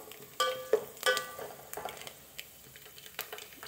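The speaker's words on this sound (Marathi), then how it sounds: "आपण ते ढवळून परतून घेऊया, म्हणजे जेणेकरून एका बाजूला नाही, दोन्ही बाजूला ते सारखे भाजले जातील." Poha with cumin being stirred and roasted in a pan, a string of spoon scrapes and clinks over a soft, steady sizzle, close and fairly quiet.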